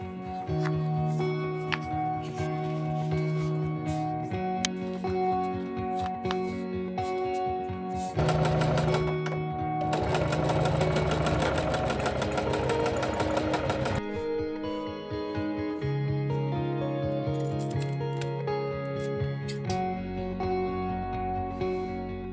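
A sewing machine stitching shoulder straps onto the back panel of a homemade ultralight backpack, running in steady bursts with a dense, rapid stitching rattle, louder in the middle stretch, under background music.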